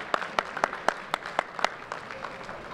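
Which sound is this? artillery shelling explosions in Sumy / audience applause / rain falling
audience applause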